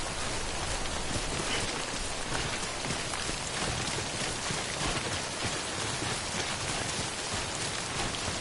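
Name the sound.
timefall rain falling in the video game Death Stranding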